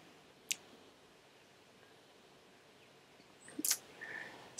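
A computer mouse clicks once, then a quick cluster of clicks follows a few seconds later, faint and close against a quiet room with no talk.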